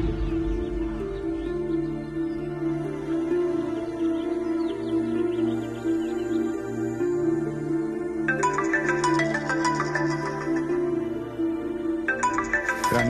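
An electronic phone ringtone plays a repeating melody nearby, with brighter bursts partway through and no talking.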